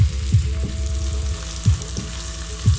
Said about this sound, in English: I've already cut some tomatoes and onions, and now I'm frying them shortly.